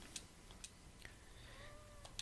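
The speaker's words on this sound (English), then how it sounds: "So you might hear him going meow, meow, meow in the background." A cat meows faintly in the background, a couple of short drawn-out cries in a quiet room among scattered soft ticks and clicks.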